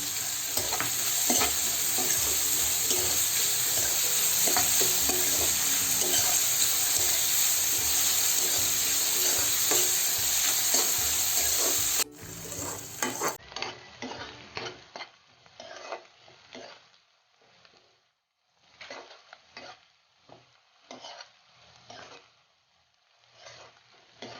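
Onions fry in a pan and are stirred as the base for a dry fish curry. A loud steady sizzle is broken by stirring scrapes, then the sound drops to quieter, intermittent frying and stirring noises.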